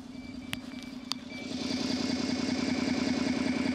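A simulated go-kart exhaust from the speaker of a Segway-Ninebot GoKart idles with a steady buzzing putter, growing slightly louder partway through, with a couple of sharp clicks near the start.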